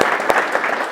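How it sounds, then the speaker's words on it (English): Brief, dense clapping from a seated crowd in a Catholic school's half gymnasium, a steady even patter with one sharper clap standing out near the middle, no voices on top. "So I wanted a special round of applause for Father Nate."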